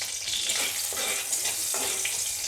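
Panch phoron spices sizzle in hot mustard oil with torn bay leaf and halved chili, a continuous bright crackling fry, close and steady, with no one speaking.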